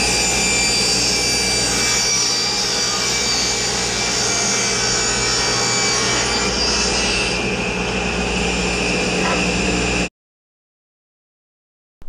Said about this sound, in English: we're going back to the table saw. We're going to rip these 3/8 of an inch thick